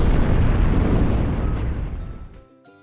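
A military cannon firing: one loud, close blast that fills the sound, then a long rumbling decay fading out over about two seconds.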